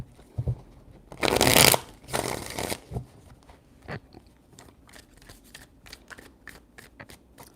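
Tarot cards shuffled by hand: two longer riffling bursts near the start, then a run of quick, crisp taps and flicks as the deck is squared, close and quiet, with no voices.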